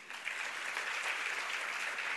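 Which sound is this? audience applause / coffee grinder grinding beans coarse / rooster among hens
audience applause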